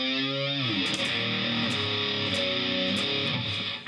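Distorted electric guitar bending a note on the low E string at the seventh fret, run through a flanger pedal: a loud, sustained sweeping, whooshing tone that slides down, then swirls on with rhythmic phasing.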